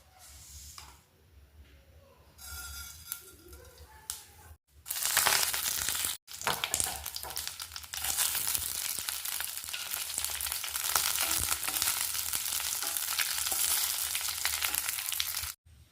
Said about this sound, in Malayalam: നമുക്കിതിലോട്ട് കടുക് താളിച്ച് ചേർക്കാം